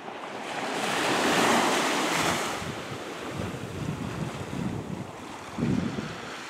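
Surf breaking on an Australian beach with steady wind buffeting the microphone, a broad roaring wash that swells and fades, then choppier gusts and a final nearer wave surge.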